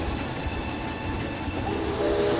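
A small amusement park train ride rumbles past with a steady mechanical roar and faint hiss, close and continuous, with no talking.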